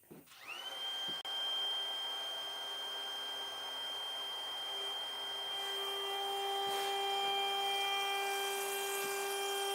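A router with a 90-degree bit, set a quarter inch deep, spins up and cuts the outline of a wooden sign, holding a loud, steady, high whine over a continuous rushing noise throughout.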